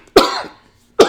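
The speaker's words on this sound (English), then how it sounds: "hold on, I got a cough." Two sharp coughs from a man with a cold, close to the microphone, the first followed by a short raspy tail and the second coming about a second later.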